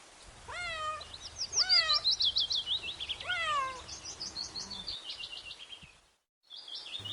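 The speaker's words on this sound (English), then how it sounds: "C for cat." A cat meows in a rising, drawn-out call, repeated three times in quick succession, each cry followed by high bird-like chirps. The sounds sit over a soft, steady background of music.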